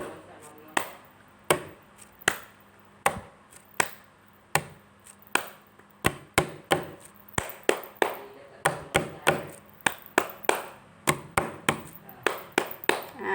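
Body-percussion pattern alternating palm slaps on a table with hand claps, a steady run of sharp, close hits at a brisk even pulse continuing for several bars in a quiet room.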